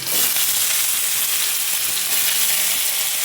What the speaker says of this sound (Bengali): নিয়ে আলুগুলো দিয়ে ভেজে নেব